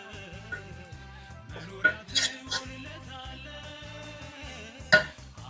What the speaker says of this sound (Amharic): የላውሮ ቅጠል አብረን እንጨምርና እንደዚህ እናማስለዋለን ማለት ነው